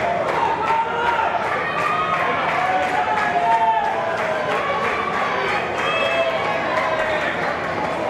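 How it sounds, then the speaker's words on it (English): A capacity crowd at a wrestling show in Hialeah rallies behind the champion, a steady, dense roar of voices running throughout while someone talks over it. "As this capacity crowd in Hialeah trying to rally behind the champ"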